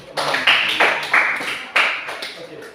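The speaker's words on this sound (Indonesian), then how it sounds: "Sekali lagi tepuk tangan dulu untuk teman-teman." Classroom of seventh-grade students clapping hands together, a rhythmic burst of several unified claps close by with light chatter mixed in.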